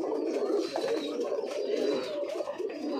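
Pigeons coo continuously in a loft under a house ceiling, a dense, close chorus of overlapping low throaty calls with faint higher chirps.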